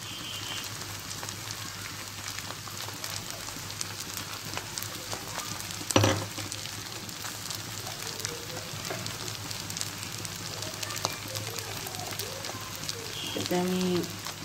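Rice frying in a pan with garlic, cumin and ginger paste for khichuri, a continuous crackling sizzle with a louder burst when the paste goes in, someone talking over it.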